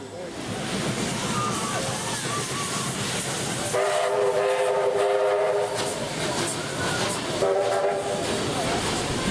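Two NSW steam locomotives on a shuttle trip roll past with a steady rumble, and a loud whistle sounds twice, the second blast shorter. A voice speaks faintly under the train noise.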